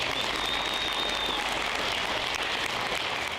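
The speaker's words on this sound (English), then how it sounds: "So again, round of applause." Dense, steady applause fills a graduation ceremony at Meridian Academy High School in 2024, a continuous wash of many hands clapping at even loudness with no voices over it.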